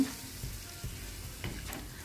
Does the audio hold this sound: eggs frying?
yes